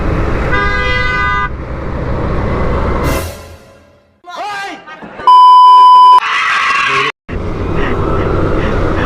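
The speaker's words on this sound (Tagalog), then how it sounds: "Binusinaan ako, gagi." A car horn sounds on a busy Philippine main road crowded with large trucks, one long, loud, steady honk rising out of traffic rumble, with other shorter beeps and engine noise around it.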